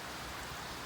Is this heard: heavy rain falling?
yes